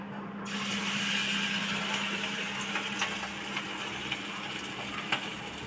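Potato and onion fritters fry in hot oil in a kadai, giving a steady, close sizzling hiss with a few faint pops, and no voices.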